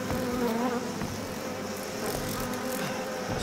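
Close, loud buzzing of a fly in Outlast 2, a continuous droning whine that wavers in pitch as it hovers near, over a low rumbling game background without talk.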